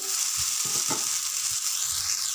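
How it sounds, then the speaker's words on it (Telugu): Chicken pieces sizzling in a pan with turmeric, a steady bright frying hiss with a few soft stirring knocks underneath. "ఇప్పుడు కొద్దిగా పసుపు వేసుకోవాలి ఇప్పుడు చికెన్ ముక్కలు వేసుకోవాలి"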